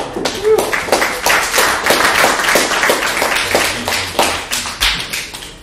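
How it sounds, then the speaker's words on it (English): Audience at a live comedy show clapping together, a dense, loud patter of many hands filling the room for several seconds without any speech over it. "give yourself an applause just being out here"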